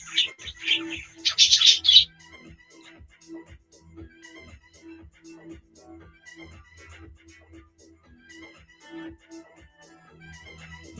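A pet bird chirps and squawks in a loud burst over the first two seconds, then softer scattered tweets continue with a steady faint ticking in the background indoors at night.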